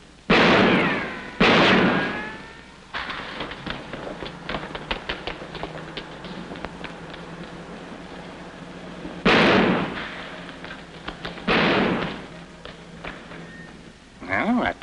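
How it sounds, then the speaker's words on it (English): Gunshots in an old comedy film soundtrack, a few sharp loud bursts spread across the scene with quieter rustle and movement between them, no talk over them. "Hey, stop or I'll shoot!"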